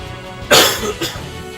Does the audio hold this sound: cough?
yes